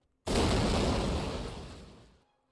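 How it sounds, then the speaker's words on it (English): A single loud explosion in MapleStory, a sudden blast with a broad roaring body that fades out over about two seconds, heard alone. "All over Leafray, there are explosions?"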